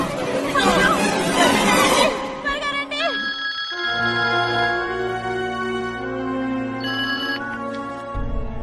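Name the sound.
telephone ringing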